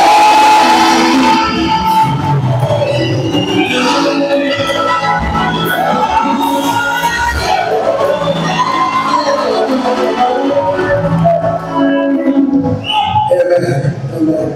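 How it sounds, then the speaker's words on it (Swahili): A crowd in a church gathering in Mwanza applauds and cheers to welcome the zone chairman, a loud continuous wash of clapping and shouts lasting throughout. "tupige makofi wakati mwenyekiti"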